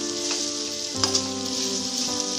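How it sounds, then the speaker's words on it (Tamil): Bitter gourd sautéing in a pan for a Tamil bitter gourd kulambu gives a steady, close sizzle with a few brief stirring knocks, no voices. "இப்போ பாவக்காயை வந்து நல்லா வதக்கிக்கோங்க"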